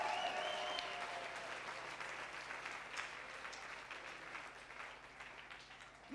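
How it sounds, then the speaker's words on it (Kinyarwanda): A church congregation bursts into sustained applause during a prayer service, loud at first and gradually tapering, a dense crowd of clapping hands heard at some distance. "Amashyi menshi ku mwami w'abantu."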